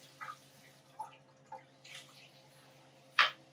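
Excess water drains from freshly rinsed rice sitting in a colander over a bowl in a kitchen sink: sparse, quiet drips fall at irregular intervals, ending with one slightly louder drop.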